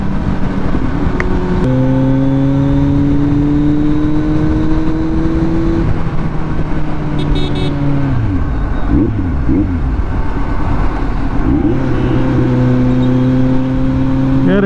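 Kawasaki Z900 motorcycle with an aftermarket exhaust, ridden on a morning road trip: a loud, steady engine drone that rises in pitch through several revving pulls, dips around the middle, then climbs again, close up and continuous with no talking.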